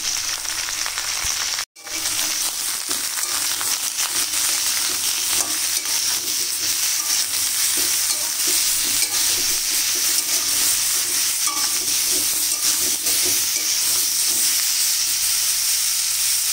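Chopped bottle gourd sizzling with salt and turmeric in garlic-fried oil, a steady loud fry and hiss with stirring scrapes throughout, a brief break near the start, no talking.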